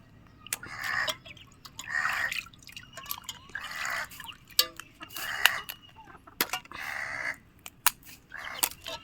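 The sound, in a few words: water dripping while washing crabs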